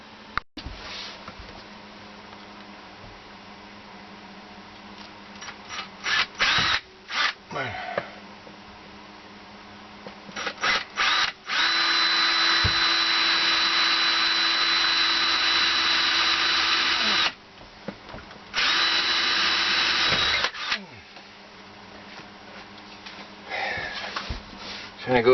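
A power drill drives screws into an RV's steel frame in a series of short bursts and two long sustained runs of high whine, with clicks and handling noises between and occasional talk.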